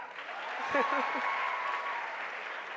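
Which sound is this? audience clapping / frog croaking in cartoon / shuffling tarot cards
audience clapping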